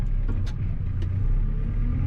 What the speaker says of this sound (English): As you can see, I'm back in the loader again.